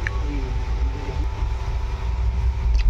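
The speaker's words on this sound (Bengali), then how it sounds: "ট্রেন ছেড়ে দিল।" The Howrah Balurghat Express train pulls away, a steady low rumble and rolling rattle of carriages heard from on board, continuous and fairly loud with faint squeals on top.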